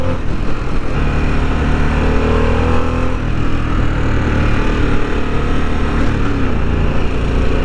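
A 2024 Harley-Davidson Sportster S cruises at steady speed, its engine giving a loud, close, continuous throbbing rumble with slight shifts in pitch.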